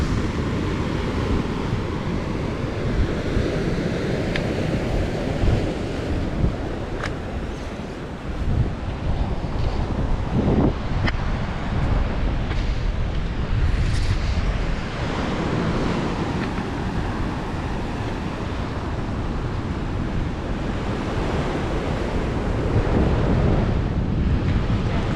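Big ocean waves crash against rocky reefs along the South Australian coast near blowholes at low tide, a continuous loud roar of surf with heavy wind buffeting the microphone throughout and no talking.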